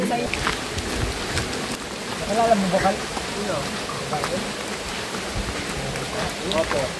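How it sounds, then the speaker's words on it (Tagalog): Steady rain patters on surfaces near Bantakay Falls in the mountains of Atimonan, Quezon, a dense hiss with scattered drops, while faint voices murmur in the background. "Inabot na kami ng ulan, guys."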